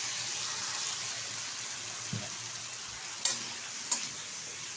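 Ground poppy seed paste goes into a frying pan for Bankura-style aloo posto and is stirred: a soft, even sizzle with a low thud, then two brief scraping clicks from the spoon, no voices.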